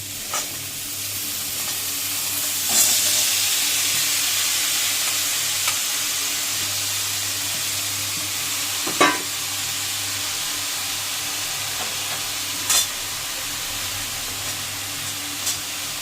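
Potatoes mixed with spices fry in a pan with a steady, loud hiss and sizzle, broken by a few brief spoon scrapes and knocks at irregular intervals.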